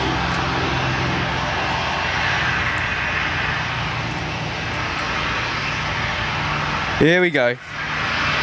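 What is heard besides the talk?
Airbus A321neo jet arriving at Gold Coast Airport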